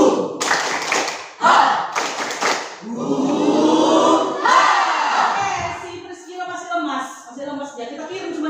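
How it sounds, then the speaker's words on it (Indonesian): A classroom of students performs a rhythmic clapping routine together, bursts of group claps and chanted voices mixing with shouts, loud and close, with a teacher's voice and children's talk running through it. "Kita bikin tepuk buha seperti biasa ya"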